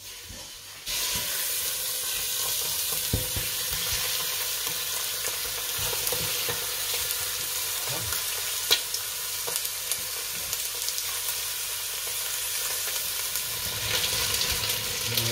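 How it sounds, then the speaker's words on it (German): Chicken pieces frying in a pan for coq au vin, a loud, steady sizzle and hiss that runs throughout with small crackles and pops. "So, braten wir das Ganze an."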